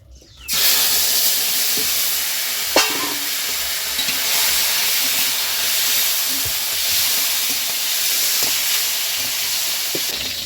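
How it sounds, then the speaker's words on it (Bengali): Fish heads rubbed with salt and turmeric fry in hot oil, giving a loud, steady sizzling hiss throughout with occasional pops and small knocks, close by and without talking. "লবণ হলুদ মাখানো মাছের মাথাগুলো ভেজে নেব"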